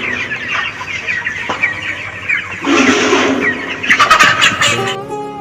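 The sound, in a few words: chickens clucking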